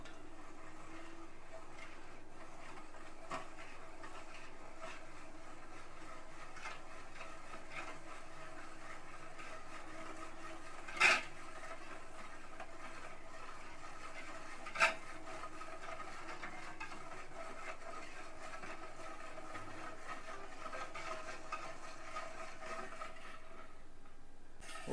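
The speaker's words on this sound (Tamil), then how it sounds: "இந்த மாதிரி ஒரு 5 நிமிஷத்துக்கு நல்லா கலக்கிக்கோங்க" Chocolate wheat cake batter is mixed by hand in a bowl, a faint, steady scraping and stirring throughout, broken by two brief sharp knocks.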